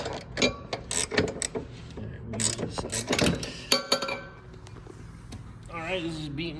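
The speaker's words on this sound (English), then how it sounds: "You just slipped the wrench." Mechanical work on a Nissan 300ZX suspension rebuild, with clanking metal knocks and ratcheting clicks from a wrench that slips, loud and close in irregular bursts, followed by quieter handling and a voice near the end.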